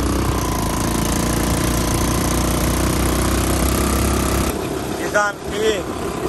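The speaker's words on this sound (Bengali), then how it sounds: "আর আমরা চালাচ্ছি এখন 250 সিসির বাইক" A 250cc rental motorcycle runs on a sea beach ride, a steady close engine drone with wind rumble that drops off near the end, giving way to brief squeaks and a voice.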